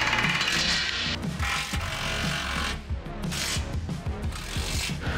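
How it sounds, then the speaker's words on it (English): A socket ratchet clicks and grinds nearby as bolts on a custom offroad bash plate for a Pajero Sport are tightened, with busy metallic ratcheting and rubbing that carries on throughout. "One main thing I always do is double check with the socket to make sure everything is nice and tight."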